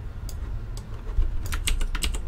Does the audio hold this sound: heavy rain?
no